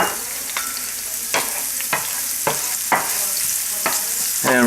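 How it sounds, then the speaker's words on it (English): Shallots frying in hot oil in a pan, a steady close sizzle with periodic sharp scraping stirs, about six at irregular intervals, no talking. "Drizzle of oil. Throw in the shallots. And it's still hot, that's why the oil's running like crazy."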